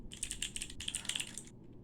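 Fingers click rapidly on a computer keyboard, two bursts of crisp, closely spaced keystrokes with a brief pause between, then quiet.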